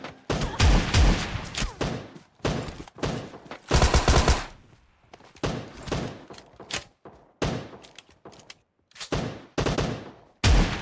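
Scorpion and other gunfire in PUBG Mobile during a close-range rush, loud bursts of automatic fire in short clusters separated by quiet gaps.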